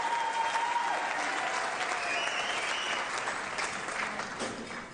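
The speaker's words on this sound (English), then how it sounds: "give them a big round of applause" Audience applause at a lifetime achievement award event, sustained dense clapping from a large crowd that fades slightly toward the end.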